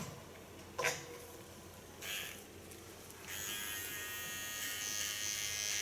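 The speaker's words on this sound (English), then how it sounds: "Go to my small clipper." A small electric hair clipper cuts hair during a pixie haircut, a couple of brief buzzing bursts followed by a steady, quiet motor whine that continues to the end.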